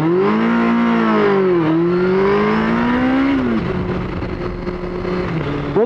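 A lorry engine strains and rises in pitch as it accelerates in a roadside race, heard loud and close with a steady droning roar, one gear change midway, and the pitch dropping and climbing again toward the end.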